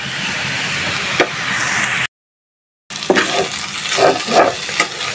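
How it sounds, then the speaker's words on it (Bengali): Bathua leafy greens with green chilli frying in a pan, a loud continuous sizzle with scraping, knocking stirs, briefly cut to silence before the frying and stirring resume; no talking. "আস্তে আস্তে শাকটা ভাজি করি"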